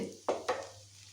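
Onions frying in ghee in a home kitchen pan, a soft steady sizzle with two sharp stirring scrapes close up, no talk.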